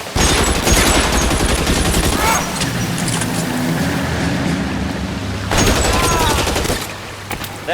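Dense rapid gunfire from the video game L.A. Noire, loud bursts of shots with booms and vehicle engine noise beneath, easing briefly before another heavy volley.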